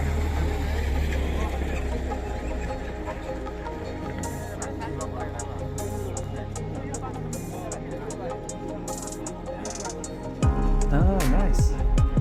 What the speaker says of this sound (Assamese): মানে বাইক ষ্টাৰ্ট দি লৈছোঁ